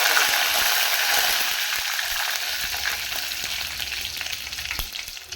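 Mustard seeds frying in hot oil for an egg gravy give off a loud, steady, close sizzle with scattered tiny crackles and pops throughout, and no one speaks.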